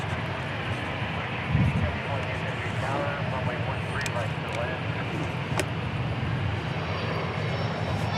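An Airbus A321 climbs out after takeoff at Dallas/Fort Worth airport, its engines a steady, broad roar that fills the whole clip, with a voice talking faintly underneath.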